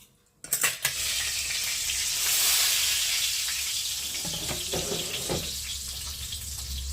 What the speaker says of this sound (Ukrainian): І смажимо до рум'яності